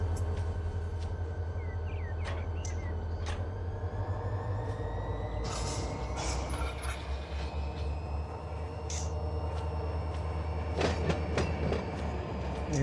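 A freight train rolls past on the main line in the Run 8 rail simulator, with continuous rumbling wheels, clicking rail joints and occasional squeals and hisses against a low engine drone.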